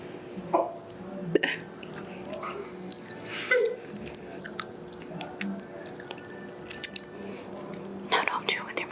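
Wet chewing and biting of food during a mukbang, with smacking mouth sounds and soft bites recurring close to the mic throughout, under quiet talk and breathy background noise.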